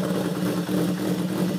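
A Honda CB 750 motorcycle, built 1969–1978 with 68 horsepower, runs with a steady, rumbling idle, loud and close, with no voices over it.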